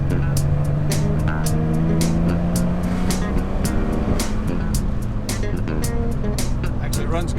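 A finished Porsche Targa, its air filters removed, runs continuously on a test drive, a steady engine drone with a slowly rising tone, accompanied by repeated sharp clicks or ticks throughout.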